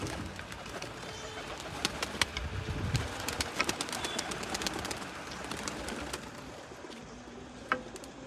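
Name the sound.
pigeon cooing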